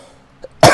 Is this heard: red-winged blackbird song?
no